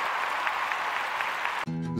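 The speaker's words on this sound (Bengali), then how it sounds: "আরো একবার তোমাদের জন্য একটা জোরে হাততালি হয়ে যাক" Applause for the singers on a televised Bengali singing competition stage, a steady, dense clapping that fills the clip, then cuts abruptly near the end into a short tonal musical sting.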